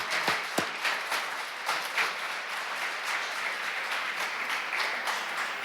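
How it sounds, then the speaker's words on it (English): A round of audience applause at a community court graduation ceremony, with steady clapping and a few sharper, closer claps standing out near the start. "Don't you think they deserve another great round of applause?"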